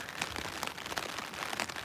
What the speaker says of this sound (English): The way the rain comes down